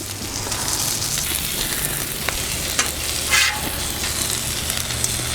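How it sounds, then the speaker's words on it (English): An egg fries on a Blackstone griddle with a steady close sizzle, a few light scraping clicks and a brief louder burst of spatter near the end. "Now let's get this egg cooked."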